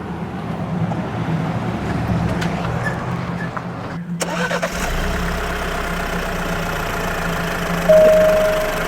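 An Alfa Romeo Giulia's turbocharged engine idles with a steady low hum, briefly dropping out and then restarting louder, running evenly under faint background noise.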